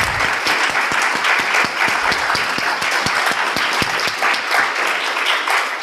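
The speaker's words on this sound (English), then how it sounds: "let's give our panel one more round of applause" A live audience gives a debate panel a round of applause: dense, steady clapping from many hands, loud and sustained for several seconds without voices.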